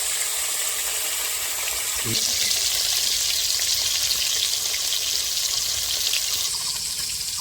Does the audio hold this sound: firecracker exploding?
no